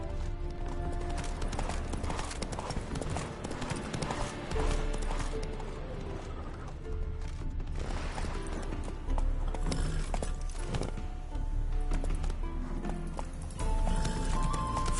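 A horse gallops in The Witcher 3 video game, its hooves clip-clopping steadily and close, with occasional whinnies and creaking tack over ambient game sound and no clear talking.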